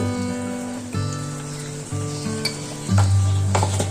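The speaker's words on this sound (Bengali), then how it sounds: "মশলাগুলো এখন খুব সুন্দর করে কষিয়ে নিব" Spices with salt are sautéed in a pan for a mustard hilsa dish, giving a continuous close sizzle and stirring scrape. Steady tonal music plays underneath and shifts pitch every second or so.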